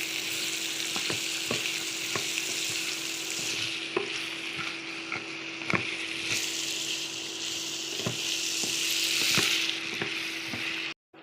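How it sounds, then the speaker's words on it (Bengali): Lentils with salt, turmeric and chopped potato sizzle steadily in a pan while a spoon stirs and scrapes, tapping the pan at irregular intervals. "ভালো করে নেড়ে মিশিয়ে নেব"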